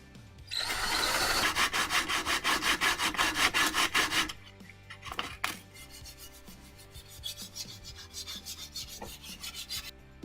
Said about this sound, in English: So I will drill these out.